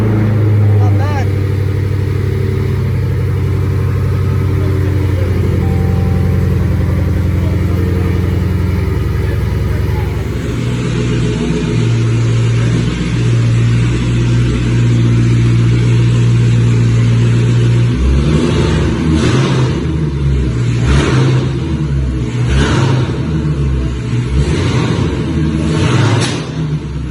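Supercharged Hellcat V8 in a cat-themed build revving hard on a chassis dyno, loud sustained engine roar with rising and falling pitch and sharp throttle blips toward the end, close up.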